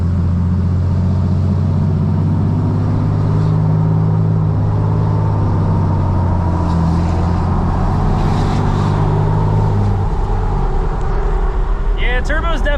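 Diesel truck with a turbocharger and Banks Monster Ram intake pulling hard under acceleration, a loud rising engine drone with turbo whine building, ending in a brief whistle as it lets off; voices speak over it.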